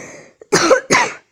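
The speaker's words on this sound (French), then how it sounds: "Désolé si je tousse, je suis un peu malade." A person who is a little unwell coughs twice in quick succession, close up and loud, after a faint throat-clearing breath.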